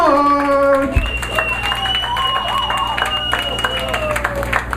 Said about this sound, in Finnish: nyt kuopiolaisille isot aplodit